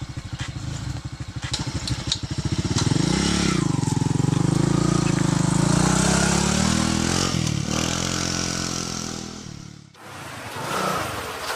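A motorcycle being ridden gives off a continuous, loud engine drone that swells in pitch as it speeds up, holds steady, dips briefly near the end, then picks up again.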